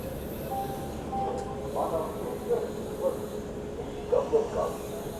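Tamil Nadu Express train rolling slowly into Vijayawada railway station, a faint, steady rumble with soft hiss and occasional clanks and brake squeals heard from inside the coach.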